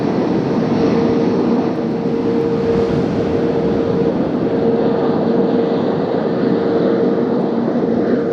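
A Delta Airlines jet from Atlanta landing in gusty crosswind at Las Vegas, a loud continuous roar of turbine and wind noise holding steady and close throughout.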